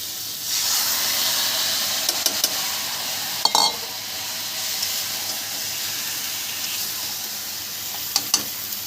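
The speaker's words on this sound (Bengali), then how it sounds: "এবার দিয়ে দিচ্ছি মাংস" Raw chicken dropped into hot oil in a pan of fried potatoes sets off a loud, close hiss that sizzles steadily for about eight seconds, with a few scrapes and clinks of stirring.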